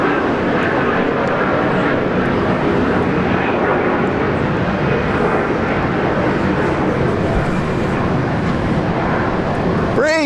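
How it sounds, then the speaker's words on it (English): A Nauru Airlines Boeing 737-300 jet takes off at Brisbane International Airport, its engine roar loud and steady throughout and close by, with a pitch sweep at the very end. "That's got to be the smartest looking 737-300 ever."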